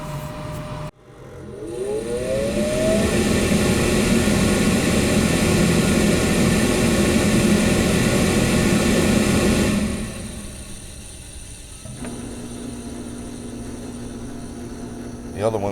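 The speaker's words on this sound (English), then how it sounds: "the other one's combustion blower, but I can manually run that." A pellet stove's combustion blower motor spins up with a rising whine and runs as a steady, loud whirring hum for several seconds, then cuts off and leaves a lower background drone.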